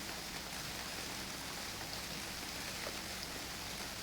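Rain falls steadily while hunting in the video game UnReal World, a faint, even hiss of drops with no breaks or other sounds.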